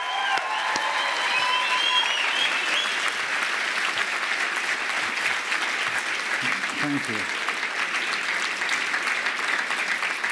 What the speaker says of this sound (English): That was a great applause.